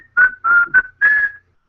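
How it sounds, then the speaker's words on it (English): A person whistles a short tune in four clear, close notes, with brief pauses between phrases and no talk. "Just a whistle while you work."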